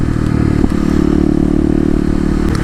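A 2018 KLX250 dirt bike with Stage 1 mods drones steadily while being ridden, its engine note loud and close with light clattering and scraping mixed in.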